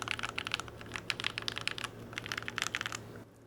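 Brisk typing on a Keychron Q2 keyboard fitted with lubed Gateron yellow switches: a steady, close run of soft, muted keystrokes with no talking, stopping abruptly near the end.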